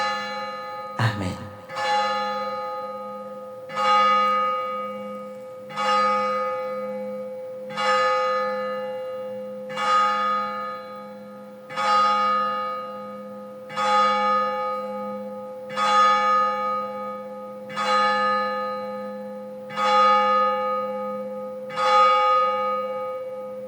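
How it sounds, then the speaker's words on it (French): Church bells toll loudly and steadily, about eleven evenly spaced strikes, each ringing out and fading into the next over a constant low hum, with no talking. "les cloches ont sonné"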